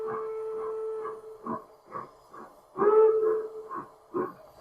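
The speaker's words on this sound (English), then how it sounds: "it actually has a functional steam whistle. So if I hit a short blast, I can blow smoke out of there as well." A 1 gauge model steam locomotive sounds its working steam whistle in short, sharp blasts, with pulsing puffs and a clear tone, loud and close.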